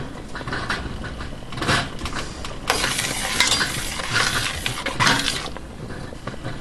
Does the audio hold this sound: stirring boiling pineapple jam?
yes